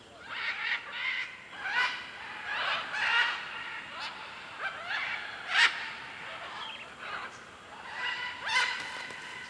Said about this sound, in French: les sons déjà bruyants des perroquets se répercutent et sont décuplés ici